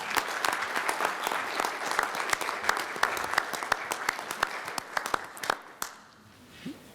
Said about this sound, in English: I think you can stand up and be applauded as well